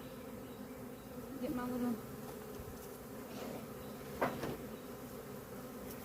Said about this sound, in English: I have all these bees around me, and they are not even trying to sting me